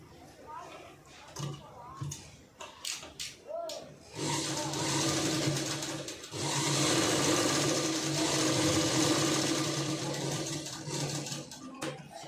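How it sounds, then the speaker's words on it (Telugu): A sewing machine stitches boutique-style front dots on a blouse. Someone talks over short bursts of handling first, then the machine runs in a loud, continuous whir for several seconds with a brief pause. "ఇలా మనం మెయిన్ డాట్ అన్నది ఇలా స్టిచ్ చేసుకోవాలండి"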